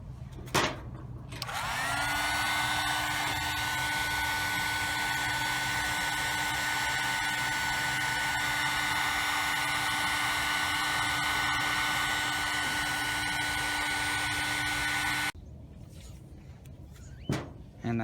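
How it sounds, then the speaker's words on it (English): A heat gun runs steadily for about fourteen seconds while shrinking heat shrink tubing over repaired headlight wiring on a 2012 Chevy Malibu, a loud continuous whirring roar that starts and stops abruptly. "Let's heat shrink it."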